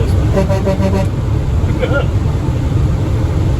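Horn on a Kenworth T800 wrecker truck, a series of short, loud toots in quick rhythm over steady cab and road rumble, then a brief lower honk.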